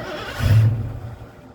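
A 1986 Ford Mustang engine cranks briefly and catches, giving a short loud burst of low engine rumble that quickly settles back down.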